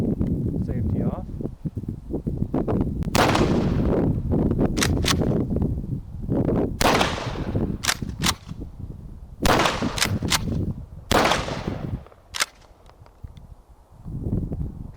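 A Mossberg 590 .410 pump shotgun fires several sharp, loud shots spaced a few seconds apart, with pump-action clacks and someone talking between the shots outdoors.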